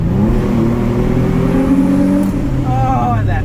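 Nissan 350Z sports car with a VQ35 V6 engine, front mid-engine and rear-wheel drive, revving loudly and steadily close by, the pitch climbing and holding.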